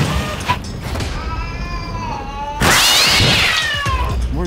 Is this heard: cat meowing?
yes